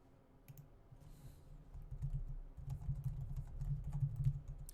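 Quiet keyboard typing at a computer, a soft patter of keystrokes that grows a little busier as it goes, with a few faint clicks.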